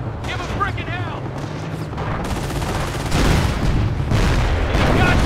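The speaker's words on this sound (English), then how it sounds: "Fire your rifles!" Rifle gunfire and booming blasts in a Company of Heroes battle, loud and dense throughout, with shouting voices over the fire and heavier bursts toward the end.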